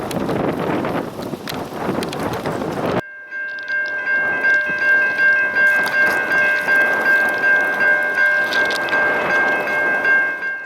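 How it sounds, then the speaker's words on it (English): Short freight train 13Z rolls past on the former Norfolk and Western line, a steady rumble of cars with a sustained tonal ring and wind buffeting the microphone after an abrupt start. "13Z would finally round the corner with a short train in tow."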